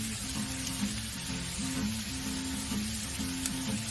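Shrimp searing on a hot Blackstone griddle give off a steady, close frying sizzle with low crackle, a continuous hiss lasting the whole stretch with no talking.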